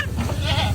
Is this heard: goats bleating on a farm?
yes